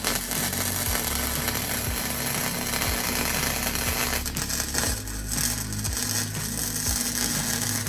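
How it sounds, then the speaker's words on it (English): An angle grinder fitted with a flat disc grinds spray-on bed liner off a Ram pickup's truck bed down to bare metal. It makes a steady, loud, harsh abrasive roar with a repeating rattling chatter throughout. "Here I'm using a flat disc to grind off my bed liner so we have some nice metal to weld to."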